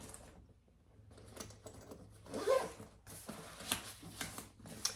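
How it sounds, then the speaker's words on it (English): Zipper on the divider pocket of a crossbody bag, pulled in short ragged bursts at close range, fairly quiet with small handling rustles between pulls. "So this divider pocket has tons of room and it's zippered."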